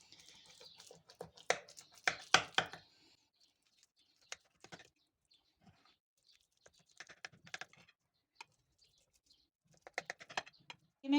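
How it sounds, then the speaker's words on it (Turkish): Knife cutting a tray of Turkish tray kebab meat mixture into squares, a series of short, sharp taps and scrapes against the tray, clustered in bursts with quiet gaps between. "şimdi kareler halinde keseceğiz arkadaşlar"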